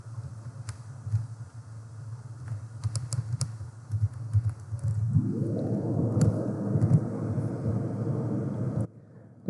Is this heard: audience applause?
no